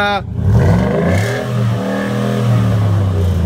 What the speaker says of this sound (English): They've given it the Flowmaster exhaust. Again, gives it that really good sound.